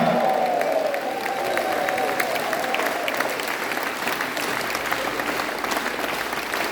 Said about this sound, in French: acclame-le, acclame encore, acclame-le